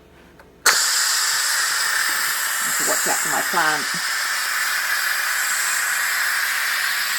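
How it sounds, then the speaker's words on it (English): Steam vents from an Instant Pot Pro pressure cooker: a sudden loud hiss bursts on and keeps blowing steadily, while someone talks briefly over it. "I'm just going to release all the steam, and then we'll come back."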